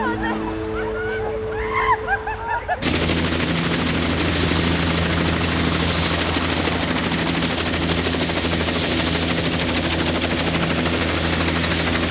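A helicopter's loud rotor chop and engine roar suddenly fill the scene, continuing steadily and close after a brief moment of quieter voices and ambience.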